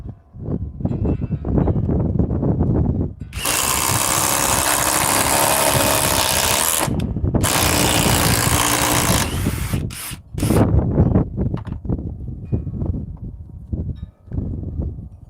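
A power drill bores into solid wood with a loud, steady, grinding whine that runs for several seconds, breaks off briefly twice, then gives way to rougher mechanical clatter, close up and with no talking.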